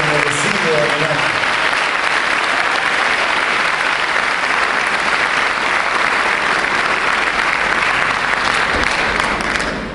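Loud, sustained applause from a large crowd at a regional youth symphony orchestra tribute in Maule, Chile, steady clapping filling the whole stretch without pause, with faint voices mixed in at the start.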